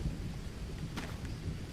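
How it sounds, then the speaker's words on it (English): Steady rain hisses with low rumbling thunder rolling underneath in the jungle survival game Green Hell, a dense, even wash of sound with no voices. "Although now it's raining, I guess."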